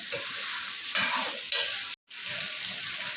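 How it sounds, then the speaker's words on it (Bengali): Chicken fries in a pan for a Dakbanglo curry, giving a steady close sizzle broken by several louder scraping stirs and a brief silent gap, with no talking. "5 মিনিট পর্যন্ত ভালো করে ফ্রাই করবো এটাকে।"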